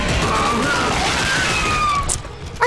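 Gunfire in the Dead Space 3 sci-fi horror game: a loud, sustained crackle of shots and impacts with faint whistling tones, ending in a sharp burst.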